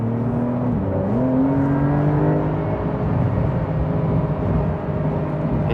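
A BMW M4 Competition's engine revs while driving, a loud, close engine note climbing in pitch early on and then holding a steady, strong drone over road noise.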